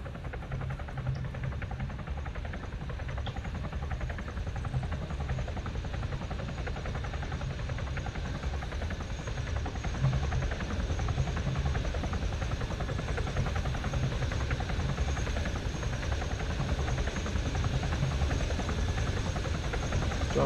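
A helicopter's steady rotor and engine drone runs unbroken and fairly loud for the whole stretch, with a low thumping hum and broad noise and no voices over it.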